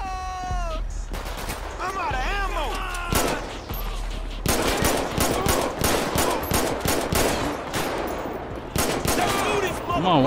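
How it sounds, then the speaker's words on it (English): A GTA 5 video game shootout, with rapid bursts of close, loud gunfire cracking in quick clusters, mixed with warbling synthetic tones and game effects, and a voice speaking briefly over the noise. "Come on, why are we in the shootout?"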